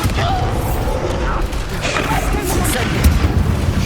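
A Bombarda blast spell goes off in Hogwarts Legacy, a dense booming burst of rubble and rumble that fills the whole short stretch.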